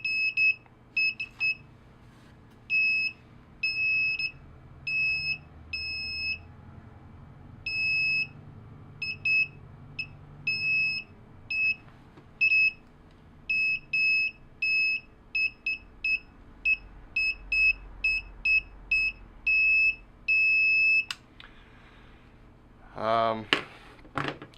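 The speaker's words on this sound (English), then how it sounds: "So I was able to get adjust a metal detector to detect this small nail." A cheap $10 Aliexpress metal detector, adjusted to pick up a small nail, gives repeated high electronic beeps in short bursts and irregular runs, fairly loud, ending in a rattling clatter.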